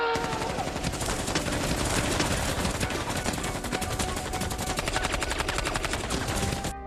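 Machine gun fire from the back of a truck in a war film, a loud, dense, unbroken stream of rapid shots lasting the whole stretch, with gunfire crackle layered throughout.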